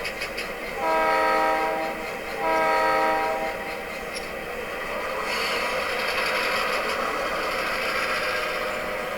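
A model train, run with Blunami sound decoders, moves forward to pick up its cars, giving two loud horn blasts over steady running rumble and a brighter, hissing rise later on.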